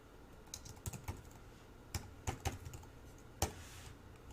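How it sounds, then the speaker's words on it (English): Quiet, close typing on a computer keyboard, a few short clusters of key clicks separated by pauses, with no talking. "here we're just going to type in the name of the member"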